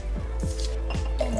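Hot liquid poured into a container on a kitchen counter, giving a series of gurgling glugs, four distinct pulses in quick rhythm, close and fairly loud.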